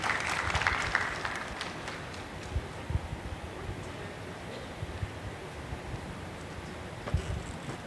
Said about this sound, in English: Please give her a round of applause as she takes the stage.